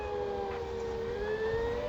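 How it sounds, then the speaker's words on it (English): Wailing sirens from a tornado siren simulation game, a steady rising and falling electronic tone sustained loudly throughout with no talking. "With this, I can attack all the sirens immediately."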